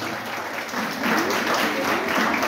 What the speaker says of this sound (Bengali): একটি জোরে করতালি দাও তো স্যারের উদ্দেশ্যে